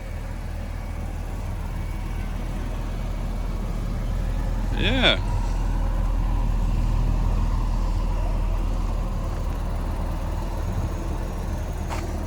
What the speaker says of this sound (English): The car's running.